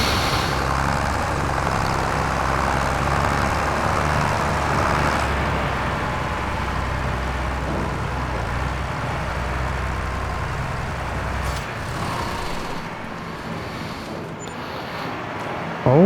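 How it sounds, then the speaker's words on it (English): A small farm tractor's engine runs in a steady, continuous drone with a low rumbling hum, fairly loud and unbroken throughout, easing slightly near the end. "it's a tough little fella, this tractor, like, it's made it."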